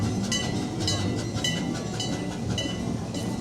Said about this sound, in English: Got the train going by now and some critters.